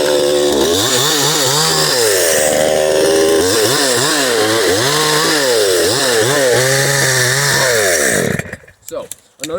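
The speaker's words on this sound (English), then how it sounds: "you see me using this 62cc chainsaw." A 62cc chainsaw bucks a felled tree, its engine screaming loud and close with repeated rising and falling revs as the bar bites through the log, then cutting out near the end to leave quieter rustling.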